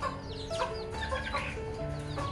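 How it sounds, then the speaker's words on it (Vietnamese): A Tân Châu bantam rooster, six or seven months old with burnt-banana plumage and yellow legs, clucks in short, close calls over steady farmyard background noise. "Đây là giống gà tre Tân Châu các bạn."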